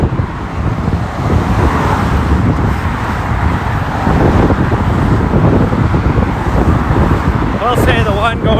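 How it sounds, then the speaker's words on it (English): Freeway traffic beside a bridge makes a steady, loud roadway roar throughout, heard close on a morning run in Washington DC, with a voice briefly audible toward the end. "I'm not going to miss the traffic noise on this one."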